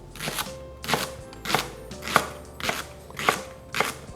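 A knife slices through food on a cutting board with seven evenly spaced, crisp strokes, close and moderately loud with quiet gaps between them.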